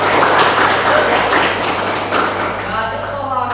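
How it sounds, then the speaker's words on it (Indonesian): Children in a classroom clap their hands together for a classmate, a loud, dense burst of clapping mixed with voices that thins out toward the end. "Tepuk tangan dulu untuk"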